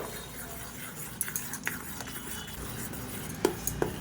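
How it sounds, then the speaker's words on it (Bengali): Grated bottle gourd being mixed by hand with rice flour in a bowl, a soft, muffled stirring texture broken by a few light clinks against the bowl, close up with no talking. "এটা দিয়ে আমি মাখিয়ে নেব, একটু ভালো করে মাখিয়ে নেব।"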